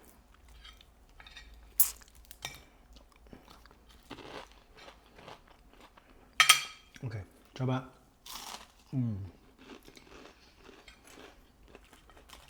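Crunchy raw vegetables dipped in sambal are bitten with a few loud, close crunches followed by wet chewing, and people talk between the bites.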